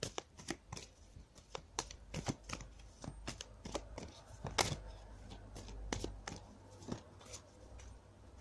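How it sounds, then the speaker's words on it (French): A deck of French cartomancy cards being shuffled by hand, with quick flicking riffles and soft slaps in an irregular rhythm, close and clear with faint room noise underneath. "je continue à battre les cartes"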